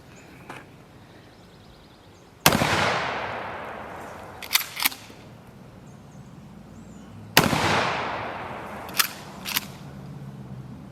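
Two loud, sharp gunshots from a hard-kicking handgun fired at about eight yards, spaced roughly five seconds apart, each followed by a ringing decay and a few softer clicks of handling, with no talking.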